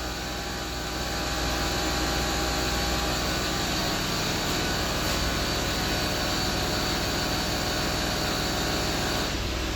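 An air suspension compressor pump on a Land Rover Discovery 3 runs steadily, a continuous droning mechanical whir held at an even level throughout with no pauses.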